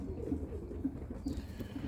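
Birmingham roller pigeons coo low and soft in a loose repeating rhythm close by, against a steady murmur of background noise and with no voices.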